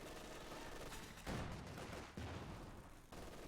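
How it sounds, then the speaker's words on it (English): Anti-tank gun fire in the Company of Heroes 2 strategy game, aimed at a building, comes as a few sharp, fairly quiet blasts with rumbling tails over a low battlefield background. "the little AT gun just decides to pluck away at this building"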